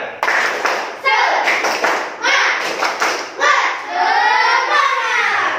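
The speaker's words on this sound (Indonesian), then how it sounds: "Yang keras sekali lagi. Tepuk semangat." A group claps together in a quick steady rhythm, loud and close, with voices calling out between bursts of claps.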